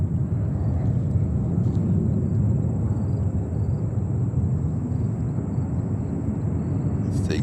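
A Boeing 767-300 airliner at JFK Airport roars with a steady, broad jet rumble that stays loud and constant throughout.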